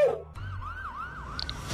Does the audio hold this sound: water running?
no